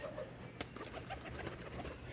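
Domestic pigeons give soft, low cooing calls a few times in quick succession, faint against a steady background murmur, with no speech.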